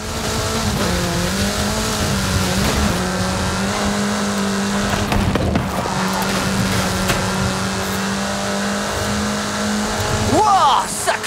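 A car in Forza Horizon accelerates hard, its engine note climbing and holding loud and close, with brief tire squeal and a final rising rev near the end.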